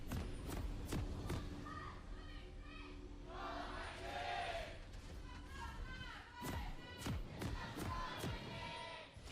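An esports arena crowd of SANDBOX Gaming fans at an LCK League of Legends match against SK telecom T1 roars and cheers, with rising shouts and thuds while a commentator talks over them.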